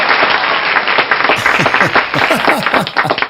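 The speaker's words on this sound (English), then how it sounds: "Can we get like an applause button sample or something in this?" A short burst of clapping and cheering plays, bright and dense, with excited voices mixed into the applause.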